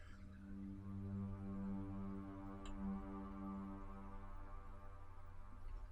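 A quiet, low Serum synthesizer pad with delay and long reverb drones steadily with a smooth, washed-out echo tail, sustained and calm throughout.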